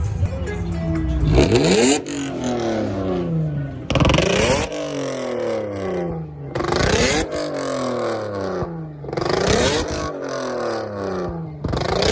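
A car engine revs hard several times in a row, each rise ending in a rasping, crackling blare from an exhaust dumped in the middle, loud and close, at a car meet.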